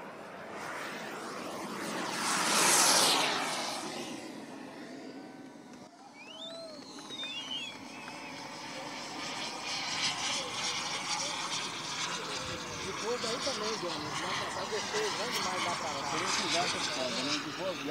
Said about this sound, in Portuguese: nós vamos poder ter essa oportunidade de assistir agora o voo do jato.